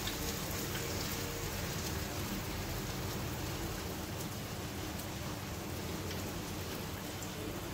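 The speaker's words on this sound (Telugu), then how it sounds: "డిప్ చేసుకొని ఒక్కసారి తీసి ఆయిల్లో వేసుకోవాలి." A dipped bread slice fries in hot oil in a small bowl for a sandwich, a dense, even sizzle and crackle that stays steady and fairly close throughout.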